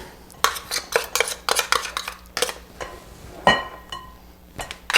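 Spoon scraping chia seeds out of the bowl of an unplugged kitchen appliance, a series of sharp metallic clinks and scrapes in uneven bursts, close and clear with no speech.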